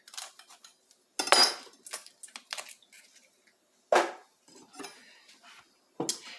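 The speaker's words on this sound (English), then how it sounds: "cut your knife straight into the root, pull off the bulk of the leaves, trim your leaves around" Knife cuts into a cauliflower root and trims away the leaves, giving a series of sharp crunchy snaps and tearing bursts with short pauses between them, close and clear with no talking.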